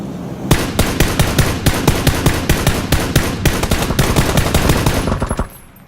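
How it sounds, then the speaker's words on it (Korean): Suppressive gunfire from a rifle in PUBG, a fast unbroken burst of loud, sharp shots close up that rattles on for about five seconds before stopping abruptly. "견제 사격할게"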